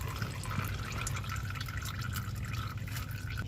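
Engine oil drains from the removed filter housing of a 2020 GMC Sierra 3500HD with a 6.6 turbo diesel, a steady close trickle with dripping over a low background hum.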